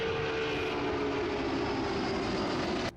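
A Lockheed L-1011 TriStar jet flies past in a flight simulator at Kai Tak airport, heard from the flyby view as a steady, loud engine roar with a whining tone for about three seconds before cutting off.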